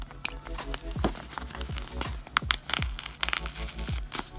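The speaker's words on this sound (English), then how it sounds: "I'm gonna use the X-Acto knife to cut the glue." An X-Acto knife cuts through the glue of a coloring book binding in a series of short, sharp crackling and scraping strokes, close-up and irregular, with no one talking.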